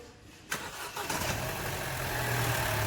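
A 1.4 Turbo Opel Astra J petrol engine cranks and fires at close range, catching after a short starter burst and settling into a steady idle hum, with no talk.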